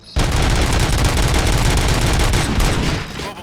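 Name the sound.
gunshots in video game RoboCop: Rogue City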